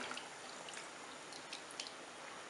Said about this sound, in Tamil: கொஞ்சம் புளி தண்ணி விடுறேன்